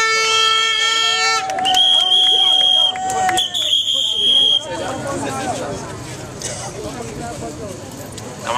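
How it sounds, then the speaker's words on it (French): Crowd at a strike-ending sit-in at the Lomé hospital in Togo cheering and whistling to welcome the president, loud shrill whistles over a noisy throng that settles into babble. "Par votre acclamation, accueillons le président"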